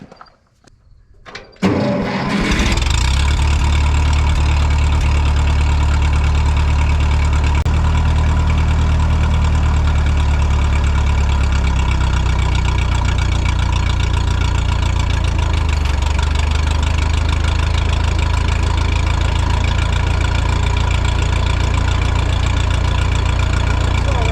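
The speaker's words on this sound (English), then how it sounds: "I'm gonna go ahead and fire up the tractor" A tractor engine driving old farm equipment through its PTO starts with a brief sputter, then runs steadily at a loud, rumbling idle for the rest of the clip, close by.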